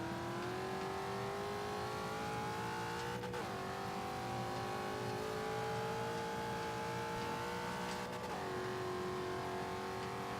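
Race car engine in the Forza 5 video game, droning steadily at high revs with two brief dips where it shifts gear, then climbs again, loud and continuous throughout.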